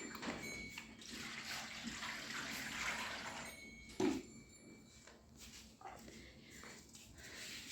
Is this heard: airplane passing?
no